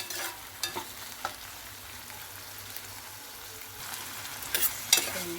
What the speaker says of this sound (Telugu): కట్ చేసి పెట్టుకున్న టమోటాలు వేస్తున్నాను ఉల్లిపాయలు లైట్గా వేగినవి